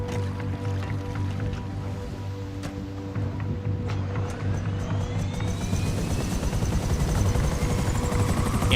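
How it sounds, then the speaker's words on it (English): A fast helicopter in GTA Online, a steady rotor and engine drone throughout that swells louder and fuller toward the end, with no talk. "good luck trying to chase this thing, because this chopper is fast."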